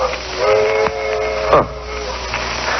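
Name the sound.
distant train whistle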